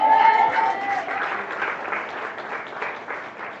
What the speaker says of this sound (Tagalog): Yung mga pumapalakpak,